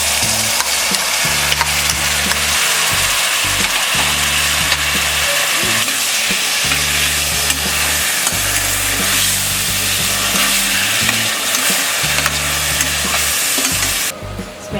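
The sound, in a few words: soaked moong dal added to sizzling spices in pan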